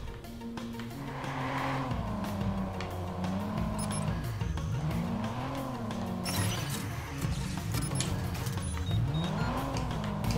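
Car driven in the Watch Dogs video game, its engine revving up and down continuously with rising and falling pitch sweeps, steady and close throughout with no talk.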